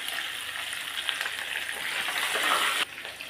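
Dried red chillies, onion, curry leaves and garlic sauteing in hot oil, a steady close sizzle and crackle throughout with a slight dip near the end, no talking.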